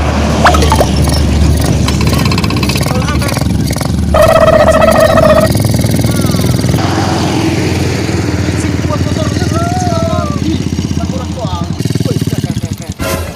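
A motorcycle engine runs steadily nearby, a rough rumble that swells at times, while people talk over it.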